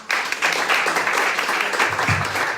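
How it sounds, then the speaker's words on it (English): Audience applause for startups at a one-minute elevator pitching event, a dense steady wash of many hands clapping that fills the room throughout, fairly loud and unbroken, with no voice on top. "so a big applause for them also."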